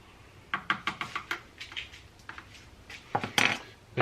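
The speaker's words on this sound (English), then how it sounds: "take a spoon or a screwdriver or whatever and just make a couple swirls through there" A spoon swirled through spray paint floating on water in a dipping container, a quick series of light clinks and knocks against the vessel, then a few louder taps near the end, no voices.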